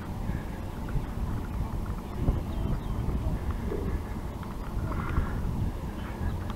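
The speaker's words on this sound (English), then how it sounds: "The wind's blowing right at me" Wind buffets the microphone at a fishing spot, a constant low rumbling rush with scattered knocks and splashy noises, and a person speaks softly in the background.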